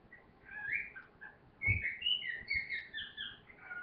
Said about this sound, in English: Sorry, my bird's really loud there.